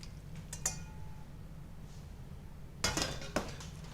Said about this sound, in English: We've got the pasta, which we're just going to place it into the bowl.